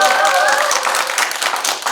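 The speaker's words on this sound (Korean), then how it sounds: "큰 박수 한번" Audience clapping at a community talk show event on single-person households, a short burst of steady applause that fills the room throughout.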